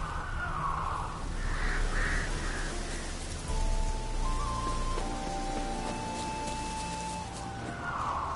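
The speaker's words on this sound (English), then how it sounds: "ordinary ravens, looks like." Ravens in The Witcher 3 video game give several hoarse caws in a row, one call after another, against a steady rain-like hiss of background ambience, with no voices.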